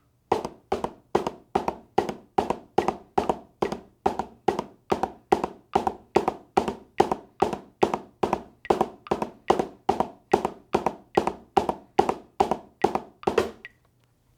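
Percussion practice with alternating hands tapping out a steady, even pulse of crisp strikes, about three per second, continuing for roughly thirteen seconds before stopping abruptly, with no voices.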